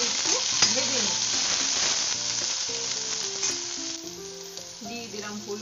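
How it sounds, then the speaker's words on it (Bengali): Eggplant pieces fry in a pan of oil, giving a loud, steady sizzle with occasional stirring, while soft music plays underneath throughout. "বেগুনগুলোকে আমি একটু ভেজে নিচ্ছি।"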